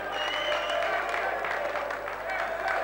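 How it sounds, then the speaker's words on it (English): Kickboxing event crowd at a 5 Star Promotions show applauding steadily, a dense wash of clapping that holds loud throughout with some voices mixed in. "Come on, give Angie a big round of applause."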